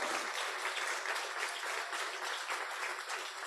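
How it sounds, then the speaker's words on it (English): An awards celebration audience applauding Holland & Knight, a steady wash of many hands clapping at moderate distance, continuous and even without speech. "Can we give Holland & Knight a round of applause?"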